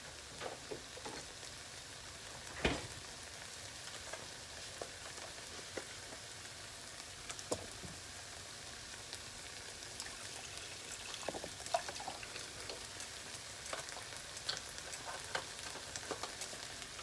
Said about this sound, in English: Keep on stirring. Keep on stirring. Keep that momentum going.